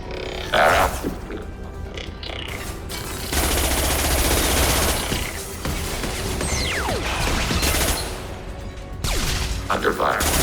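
A hacked turret firing in Mass Effect 2, with bursts of machine-gun fire, crashes and grunts in heavy combat, loud and sustained across several stretches, with voices speaking over the action.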